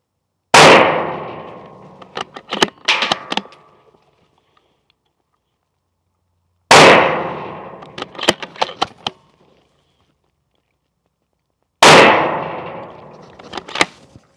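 A bolt-action rifle fired downrange at a 100-yard target: three loud, sharp shots a few seconds apart, each followed by a quick burst of metallic clacks as the bolt is worked, with silence in between.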